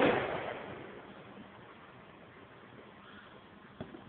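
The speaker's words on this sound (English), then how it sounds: "There's fireworks over here." Fireworks go off in the distance outdoors: a muffled boom that slowly fades into a rumbling wash, followed by a single faint pop near the end.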